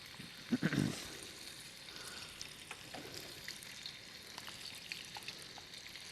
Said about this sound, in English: I'm just dropping my chicken in there